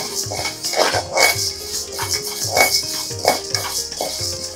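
Wheat grains dry roasting in a hot pan give a steady scratchy clatter, with repeated metallic scraping and stirring strokes against the pan in a regular rhythm, close and alone.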